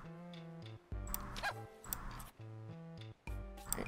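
A dog in the Pupperazzi video game gives a few short barks and yips, close and clear, spaced between bursts of background game music.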